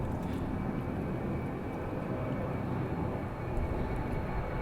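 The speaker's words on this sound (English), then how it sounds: "As that plane goes by again, you can hear it." Propeller or jet plane passing overhead outdoors, a steady low broadband rumble holding at moderate level for several seconds, not very low in altitude.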